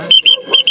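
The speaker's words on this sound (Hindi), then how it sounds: "सीटी मार के बोलो" A person whistles outdoors on a recruitment training ground, producing several short, shrill, loud bursts in quick succession with brief gaps between them.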